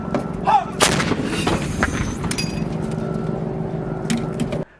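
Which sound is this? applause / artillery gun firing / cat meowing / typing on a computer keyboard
artillery gun firing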